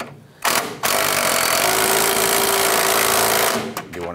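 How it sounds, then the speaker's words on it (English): A loud, steady mechanical whir, likely an impact or power tool tightening the nut that joins the inner tie rod to the center link on a 1994-2004 Chevrolet S10. It runs continuously for about three seconds after a short initial burst. "Let's go ahead and tighten down this nut from the inner tie rod to our center link."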